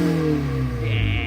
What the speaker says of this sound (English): rev it, let's see